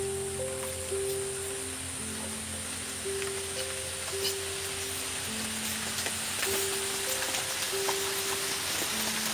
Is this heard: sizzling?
yes